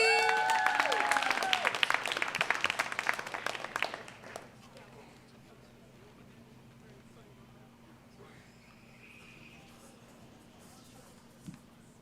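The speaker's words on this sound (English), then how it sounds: "Please keep those hands clapping for Kris Jeezii." Applause from an audience at a Boston spoken-word poetry event, loud and dense over the first four seconds, then quickly dying away to quiet room tone with one brief knock near the end.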